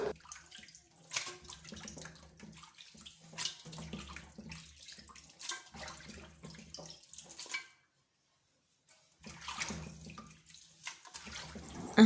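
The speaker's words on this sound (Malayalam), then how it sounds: "ഞാൻ ചിക്കനൊക്കെ നല്ല രീതിയിൽ കഴുകി എടുക്കുക" Raw chicken washed under running water in a Kerala kitchen, a steady splashing tap-and-sink wash with scattered drips and clatter, pausing briefly before resuming, with no talk.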